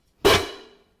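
A single cymbal clank, bright and close, quickly muted so only a brief ring trails away.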